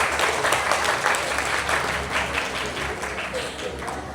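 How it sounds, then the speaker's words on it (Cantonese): Sustained, dense applause from a theatre audience at Hong Kong's Sheung Wan Civic Centre, clapping for children at a recitation and storytelling competition, loud and steady throughout without a break. "我哋俾熱烈嘅掌聲俾呢啲嘅小朋友"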